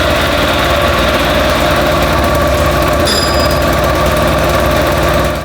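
A Yamaha YZF1000R Thunderace motorcycle engine being rebuilt runs steadily and loudly close by, a continuous idling drone with a brief high whine partway through.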